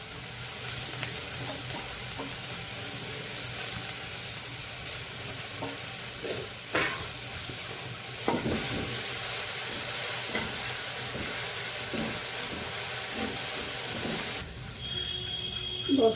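Washed cabbage leaves fry in a hot pan with a steady, close sizzle and hiss, broken by occasional stirring clatter and a louder burst of spitting as the wet leaves hit the oil.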